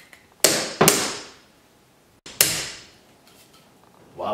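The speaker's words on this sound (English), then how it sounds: "knock the underside of the dykes with the hammer and up pops the pin" Three sharp metallic hammer strikes on diagonal cutters to knock a door hinge pin out, close and loud, each ringing briefly before fading: two in quick succession, then a third after a pause.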